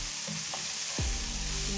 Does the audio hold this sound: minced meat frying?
yes